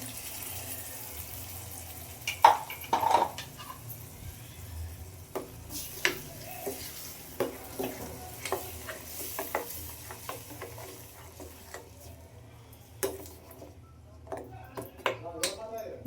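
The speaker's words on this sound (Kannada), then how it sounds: "ಇದು ಚೆನ್ನಾಗಿ ಎಣ್ಣೆಯಲ್ಲಿ ಮಸಾಲ ಫ್ರೈ ಆಗಬೇಕು ನೋಡಿ" Ground masala and chilli powder fry in oil for a soya chunks gravy, a soft background sizzle broken by repeated scraping clinks of a spoon stirring against the pan.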